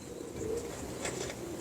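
A local pigeon coos softly in a few low, rounded calls against a quiet background, with no talk.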